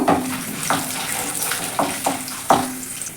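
Peanuts, chana dal and urad dal sizzle in hot oil for upma, a steady close frying hiss with a few sharp stirring scrapes at irregular intervals.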